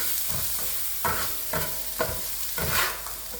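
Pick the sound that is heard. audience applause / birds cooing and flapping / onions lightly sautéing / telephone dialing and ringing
onions lightly sautéing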